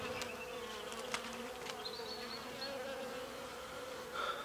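Honey bees hum steadily at an open hive during a UK beekeeping inspection, a soft continuous drone with occasional louder passes of single bees close by, and no voices.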